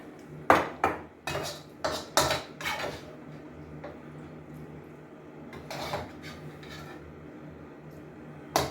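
Pan-cooked food with peppers being moved onto a serving plate, a quiet run of metal utensil clinks and scrapes against pan and dish, clustered at the start with a few more knocks later, nearby and without talk.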